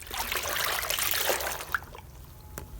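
Water trickles and pours steadily over soft Pima cotton fabric for about two seconds, close and fairly loud, then stops abruptly into near silence with a faint drip.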